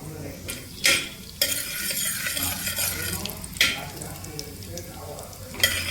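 Cloves, cardamom, cinnamon and star anise frying in a pan for veg biryani, a steady crackling sizzle broken by several sharp metal spoon scrapes and clatters, heard close with no talking.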